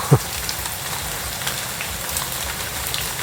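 Steady rain falling in a forest during mushroom hunting in Thailand, a dense even hiss of drops on leaves with a brief knock near the start.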